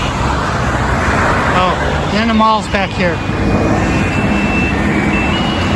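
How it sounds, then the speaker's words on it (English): Steady road traffic on a street in Entebbe, Uganda, on a quiet Sunday, a constant broadband roar of passing vehicles throughout with someone briefly talking over it and a thin high tone drifting in near the end. "So, yeah, lots of traffic in here."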